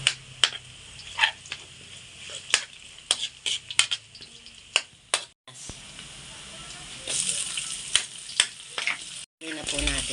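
Garlic sautés in hot oil in a pan, a loud close sizzle punctuated by sharp stirring clacks and pops, swelling louder toward the end, with no voices over it.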